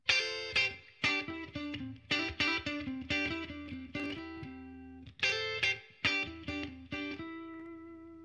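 An embellishment on an E root chord played on electric guitar, with bright, slightly overdriven chord stabs and hammer-on flourishes in a repeating rhythmic phrase that closes on a sustained ringing chord.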